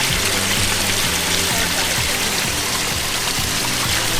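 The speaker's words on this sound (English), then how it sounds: "did they add that little waterfalls?" A small waterfall splashes steadily into a 400-gallon backyard pond basin in Florida, a loud, continuous close-up trickling and gushing with no talk.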